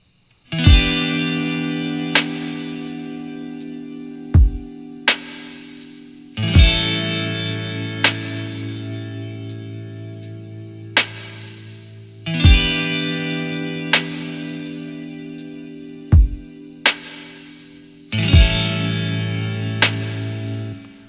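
Clean electric guitar through an amp simulator strums chords, each ringing out with a wash of reverb, repeating in a slow, steady cycle with no voices.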